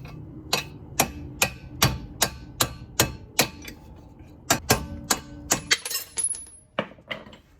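Sharp metallic hammer blows on the steering knuckle of a 2006 Toyota Avalon during a CV axle replacement, about fifteen strikes in an uneven rhythm, close and loud with brief gaps between bursts.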